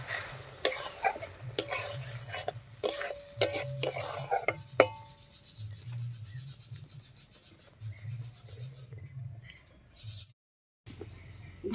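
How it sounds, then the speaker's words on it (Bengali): Dried lote fish being stirred and sautéed with garlic spice paste in a pan, with clattering spoon scrapes in the first half over a soft sizzle, then quieter cooking. "আবার একটু জল দিয়ে কষিয়ে নেব।"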